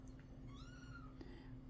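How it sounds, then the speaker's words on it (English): A small pet cat gives a single drawn-out, rising and falling meow, faint and somewhat distant over a steady background hum. "My little cat's crying, so I'm going to let her in the room."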